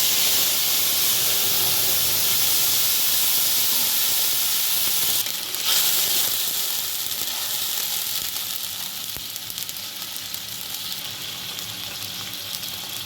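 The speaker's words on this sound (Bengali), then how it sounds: "এবার আমি তেজপাতা ফোড়ন দেব, দিয়ে আমি যে আদা, সাদা জিরে আর কাঁচা লঙ্কা বেটে রেখেছিলাম সেই মশলাটা দিচ্ছি।" Bay leaf and a paste of ginger, cumin and green chili frying in oil: a loud continuous hiss and sizzle throughout, with a brief surge partway as more goes in.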